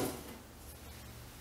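A home's GE main electrical panel cover in a garage being opened, a brief metallic scrape and clunk at the start fading into a quiet room hiss, close by with no speech.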